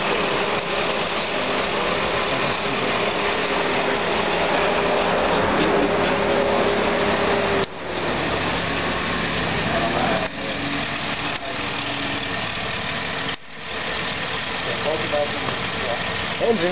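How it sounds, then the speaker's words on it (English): A car engine idles steadily after an emissions repair, a continuous broadband hum filling the whole stretch with a few brief dips, while people talk over it. "Engine sounds a lot different automatically."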